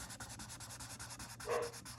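A dog pants rapidly in the background of a quiet indoor room, with faint rhythmic breaths and a brief louder huff near the end.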